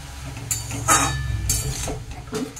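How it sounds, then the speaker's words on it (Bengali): A spoon clinks and scrapes against a cooking pot while chopped bottle gourd and salt are stirred for a Bengali lauki shukto, a few soft metallic taps and knocks over a faint low hum. "এটাকে একটু নেড়ে চেড়ে দিচ্ছি"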